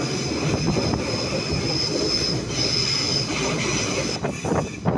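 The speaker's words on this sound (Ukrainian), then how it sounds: "Такі потяги тут ходять." A train passing at Cologne main station, with loud sustained high-pitched wheel squealing over a dense rumbling roar of rolling cars, close and continuous.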